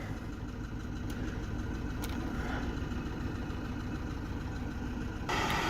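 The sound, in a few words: car engine idling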